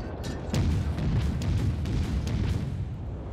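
Warship artillery in the World of Warships video game fires while blind shooting over a mountain, heavy low booms rolling together over a dense rumbling battle backdrop, loud and continuous.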